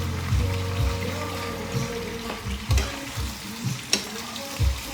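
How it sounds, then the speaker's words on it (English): Potatoes and onions fry in a pan with a steady close sizzle, broken by several soft scraping stirs and spoon knocks against the pan. "We just mixing this up. I stirring it up, or whatever you want to call it."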